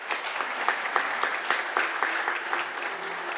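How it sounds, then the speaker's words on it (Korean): An audience at a Democratic Party leadership preliminary election event applauds, many hands clapping in a dense, steady burst with a few louder claps standing out. "박수를 보냅니다."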